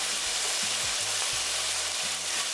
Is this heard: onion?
yes